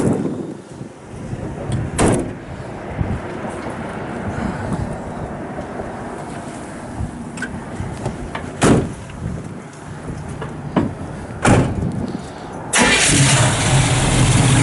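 A 1969 Pontiac Firebird 400 with an aluminum radiator cranks and catches, then settles into a steady, loud mid-pitched idle. Outdoors on a cold, windy day, with no talk.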